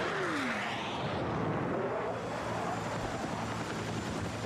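A transport helicopter in Battlefield 6 drones steadily with a broad engine and rotor roar, a continuous mid-level hum with a brief falling whine near the start, and no talk.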